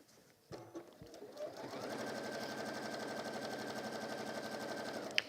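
A Juki sewing machine starts up after a couple of clicks and runs in a fast, steady, close mechanical chatter of stitching for several seconds.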